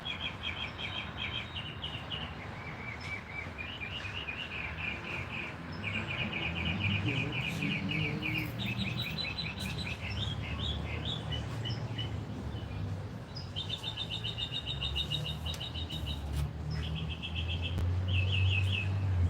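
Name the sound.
bird singing outdoors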